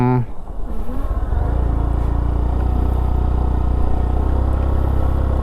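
Small-wheeled Honda Monkey motorcycle labouring up a steep hill in low gear with two riders, its engine a steady loud droning hum throughout after a brief rev at the start, with a voice briefly audible early on.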